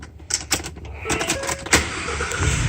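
A 2018 Ford Transit T-150 mid-roof, long-wheelbase cargo van starts up: a few sharp clicks and knocks come first, then the engine turns over and settles into a steady, fairly close idle.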